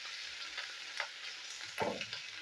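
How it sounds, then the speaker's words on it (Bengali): Chopped onion and green chilli fry in oil in a pan, a soft continuous sizzle nearby broken by a couple of louder stirring scrapes; no one speaks. "পেঁয়াজটা আমি ভেজে নিচ্ছি।"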